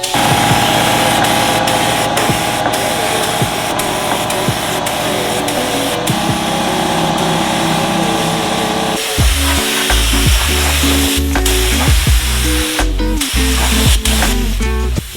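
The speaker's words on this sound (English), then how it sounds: "Coverage, urethane primer. Cover the whole thing." A spray gun hissing continuously at close range as it sprays urethane primer onto a car, loud and steady, with a running engine or compressor droning underneath.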